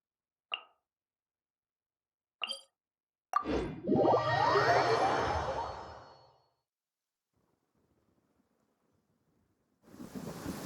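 A crack of thunder rumbles loudly nearby for a few seconds after a couple of brief sharp ticks, then fades into near silence before steady rain hiss begins.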